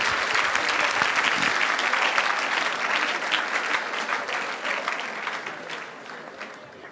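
Sustained applause from a congregation at an evening worship gathering, loud and dense for several seconds and then slowly fading.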